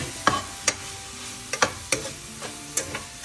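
Cauliflower stir fry being mixed in a pan with spice paste, a spoon scraping and knocking against the pan in irregular strokes over a quiet sizzle.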